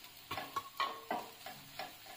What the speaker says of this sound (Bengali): ভালোভাবে নাড়াচাড়া করে নিচ্ছি।